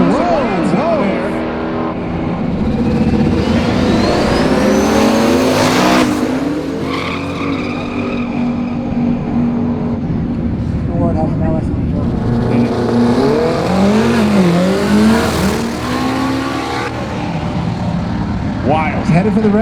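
Drag racing cars at Roadkill Nights roar and accelerate hard with tires squealing, loud and continuous, engines rising in pitch as they pass close by.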